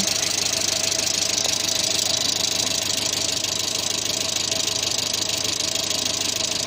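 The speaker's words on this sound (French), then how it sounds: "Le moteur tourne bien." The 1.1-litre engine of a 1986 Renault Super 5 GTL idles steadily, a continuous even mechanical hum with a faint rapid ticking, close by and unchanging.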